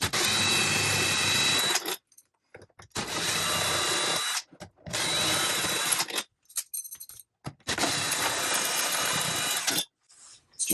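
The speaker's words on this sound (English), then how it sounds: "Using a drill, a high-speed drill, to take these long bolts out is a must." A high-speed power drill removing long bolts from an RV air-conditioning plate whirs in four sustained bursts of a couple of seconds each, separated by short pauses and faint clicks, close and loud.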